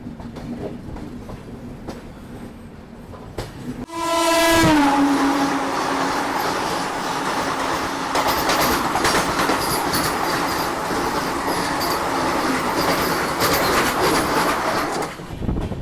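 The Prayagraj Express runs after leaving New Delhi station, a steady rolling rumble and rhythmic clatter of wheels over the rails, with a long horn blast as another train rushes past close by.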